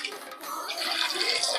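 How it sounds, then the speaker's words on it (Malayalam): Water poured into a pot holding banana pieces for an Onam payasam, a continuous splashing hiss that swells after a brief dip and stays steady, close and fairly loud, with no talk. "ഈ പഴം ഒന്ന് വെന്ത് കിട്ടാൻ മാത്രമുള്ള വെള്ളം ഇങ്ങോട്ട് കാണിക്ക്"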